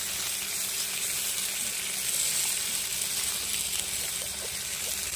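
Flat beans frying in a pan with turmeric, red chilli and spices: a steady, close sizzle and hiss runs evenly throughout, with no voices.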